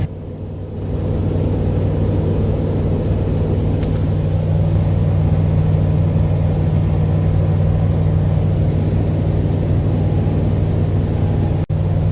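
Ford F250 pickup truck cruising on a highway, a steady loud engine rumble and road drone with no talking.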